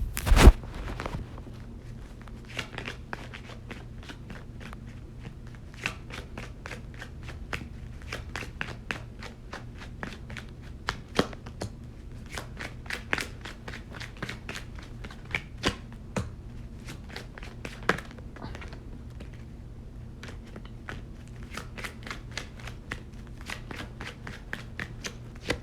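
Tarot cards being shuffled by hand in a steady run of crisp riffling clicks and flutters, close and fairly quiet, continuing alone throughout with no talk.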